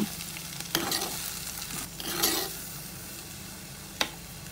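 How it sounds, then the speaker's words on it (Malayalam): Washed beans fry in a pan as a spatula stirs them, with a steady close sizzle broken by a few sharp scrapes and clinks against the pan. "ബീൻസ് ഇതിലോട്ട് ചേർക്കാം ഒന്ന് ഇളക്കി കൊടുക്കാം"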